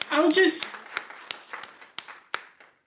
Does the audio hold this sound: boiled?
no